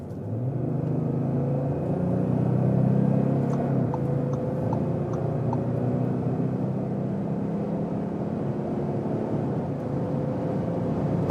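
An Audi S4 with a 3-liter diesel engine accelerates hard, a deep muffled engine rumble swelling and holding steady from inside the cabin, with faint clicks above it.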